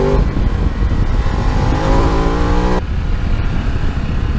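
A Ducati Desert X motorcycle engine revs up through a rising harmonic drone, holding steady and loud before dropping off abruptly to a lower idle-like rumble.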